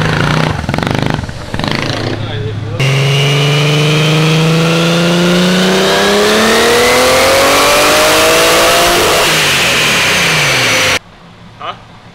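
A Toyota AE86 engine running through its muffler, with fumes escaping there, loud and close: a steady drone that climbs smoothly as the revs rise, then cuts off abruptly near the end. Voices are briefly heard at the start.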